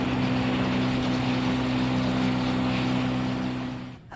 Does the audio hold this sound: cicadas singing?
no